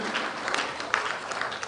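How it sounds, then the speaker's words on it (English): Crowd applause at an outdoor event of a national campaign against child marriage and teenage pregnancy: a short burst of scattered clapping with some cheering. "Round of applause, ladies and gentlemen."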